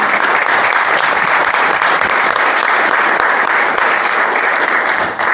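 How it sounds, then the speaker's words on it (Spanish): Sustained, dense audience applause fills the room steadily throughout, loud and even, at the opening of a lecture series event honoring a doctor. "permítanme pedir un aplauso para el doctor y para todas las personas"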